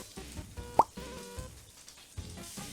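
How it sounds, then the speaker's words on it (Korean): Chopped onion, carrot and ham are tipped into a pan in one soft plopping thud, followed by quiet rustling and light sizzle. "아까 썰어 두었던 양파와 당근과 햄을 몽땅 다 쏟아 부어 주세요"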